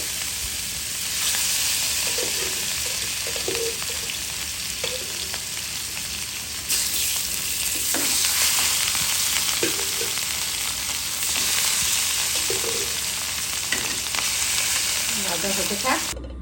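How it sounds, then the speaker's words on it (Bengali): Pieces of rohu fish fry in hot oil with a loud, steady sizzle that fills the clip, broken by a few soft scrapes and clinks from the pan. "দিয়ে দিলাম মাছ ভাজার জন্য তেলটা গরম হোক"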